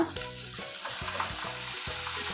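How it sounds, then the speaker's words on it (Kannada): Water poured into a hot pan of Mangalore-style chicken biryani masala, setting off a steady, close sizzle and bubbling hiss that holds at an even level throughout. "ಈಗ ನಾವು ಇದಕ್ಕೆ ನೀರನ್ನು ಹಾಕೋಣ."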